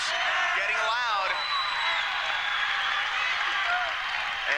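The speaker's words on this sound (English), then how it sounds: "The crowd comes alive." A dense basketball crowd at a 1995 CIF semifinal inside the echoing Pyramid arena roars and cheers steadily, loud and reverberant, with whoops rising above the din.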